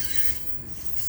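An FEC night train, Train 101, pulls out at the start of the week, its steel wheels squealing steadily over a low rumble, heard from a distance and fairly faint.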